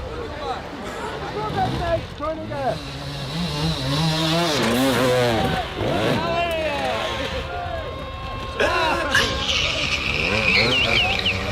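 Dirt bike engines rev hard on a muddy woodland hill climb as the rear wheels spin in the mud, giving rising and falling engine whines close by, with people talking over the noise.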